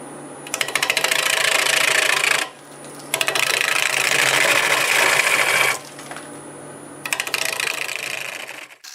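A wood lathe spins a maple bowl blank at 840 RPM, a loud steady mechanical whir with a rattling hum that stops briefly twice and restarts, close and without speech.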